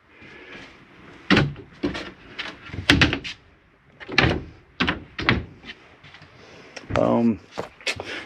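A latch-secured compartment door on a Jayco Seismic 4212 toolhauler RV snaps open several times, giving sharp, close clicks and thunks mixed in among intermittent talk.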